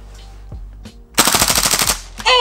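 Umarex KWA Tavor gas blowback airsoft rifle fires a loud full-auto burst of about a dozen rapid, sharp cracks, preceded by a few single clicks and followed by a brief pause and a final crack.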